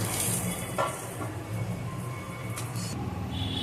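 A lid set down on a pan of paneer paturi while it cooks, giving a short clatter over a steady, close sizzle, with a second light knock later.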